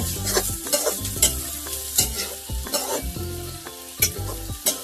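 Soaked chickpeas fry with golden onions in a pan, a steady sizzle broken by repeated scraping clanks as a spoon stirs them, close and loud with no talking.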